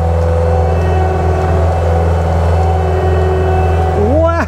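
A huge machine's engine drones loud and close with a steady, deep hum once the parking brake is off, then climbs in pitch near the end as it begins pulling away on a track.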